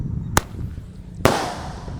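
Two sharp, loud bangs from a Happy Power 4 firecracker set off inside a water gallon, the first burst and then a second about a second later with a longer ringing tail.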